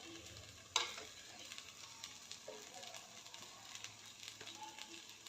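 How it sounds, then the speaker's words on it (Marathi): Sweet corn paratha filling with oregano, chili flakes and coriander powder sautéed in a pan: a faint soft sizzle with scattered scrapes and one sharper clink of a spoon against the pan, quiet and close. "हे सर्व मिक्स करून चांगलं परतून घेते"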